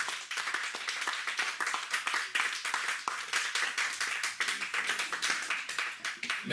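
A church congregation claps and applauds the Lord together, with a fast run of crisp, overlapping claps that goes on without a break at moderate volume.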